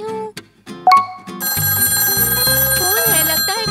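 A telephone rings indoors in a pretend home pizza shop, a loud sustained electronic ring that follows a few brief knocks and tones.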